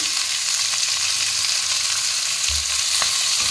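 Shredded cabbage and green peas frying together in oil in a pan, a loud, steady close-up sizzle with soft stirring scrapes and a few utensil knocks, no voices.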